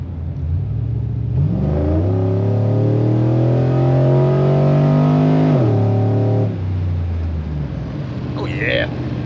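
Chevrolet Sierra truck with a 5.3 V8 making a hard pull through the gears, a loud, close engine roar that climbs in pitch, drops at a shift, and climbs again before settling.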